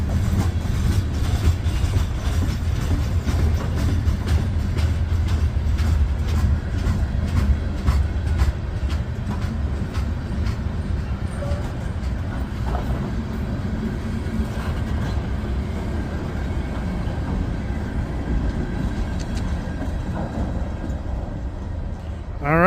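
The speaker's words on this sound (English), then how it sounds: "And then the end of the train approaching." A freight train with boxcars rolls steadily past close by, a loud continuous rumble with rhythmic clickety-clack of wheels over rail joints, and the train's end approaching near the close.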